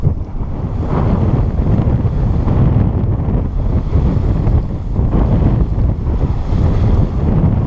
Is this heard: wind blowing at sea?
yes